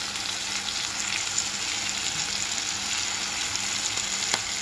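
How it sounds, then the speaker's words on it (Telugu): Onion pieces with turmeric fry in a pan, making a constant soft hiss and sizzle with faint stirring scrapes and one brief click near the end, and no one talks. "పసుపు, ఆనియన్స్ ముక్కల్ని త్వరగా వేగటానికి ఇలా చేస్తున్నాము."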